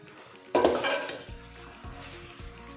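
Shredded cabbage hits a hot pan for chicken chow mein with a loud burst of sizzle, then settles into steady frying with a few scraping stirs of a spoon against the pan.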